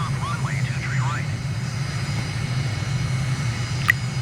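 A light airplane's engine drones steadily as it rolls onto runway 23 right at Taipei, Taiwan, in Microsoft Flight Simulator. The low, constant hum runs throughout, with faint radio-like warbles above it.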